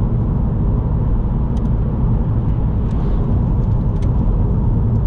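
Car travelling along a road on the Isle of Skye, a loud, steady low rumble of engine and tyres that stays constant throughout, with a few faint ticks above it.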